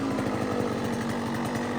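An 85cc-112cc motorcycle engine fitted with a Lectron Billetron Mini 29mm carburetor idles steadily close by, a continuous rapid putter with an even pulsing rhythm and no talking.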